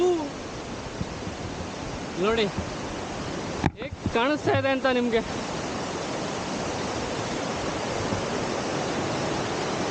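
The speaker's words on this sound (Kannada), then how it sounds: "ಇಷ್ಟು ಜೋರಾಗಿ ಹರಿತಾ ಇದೆ ಸೌಂಡ್ ನೋಡಿ ಎಷ್ಟು ಜೋರಾಗಿ ಕೇಳಿಸ್ತಾ ಇದೆ" Hebbe Falls roars as a constant, loud rush of falling water. A person talks over it for a few seconds, and the roar carries on alone afterward.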